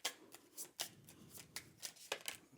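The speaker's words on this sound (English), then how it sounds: "So let's shuffle up this deck." Dune: Imperium cards riffled and shuffled by hand in repeated quick bursts of crisp, papery flutter, close and fairly quiet with short pauses between riffles.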